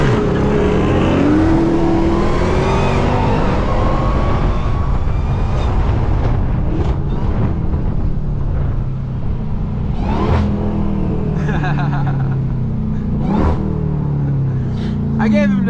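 A Dodge Durango Hellcat launches hard off the line while racing a Charger, its engine roaring loud and close as it climbs through the revs, with people talking over the rumble.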